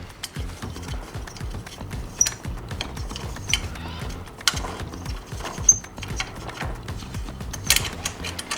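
A bolt is being tightened on the frame of a 6x2x2 reptile enclosure, giving repeated close ratcheting clicks in quick rhythmic bursts with small metallic knocks between them and no voices.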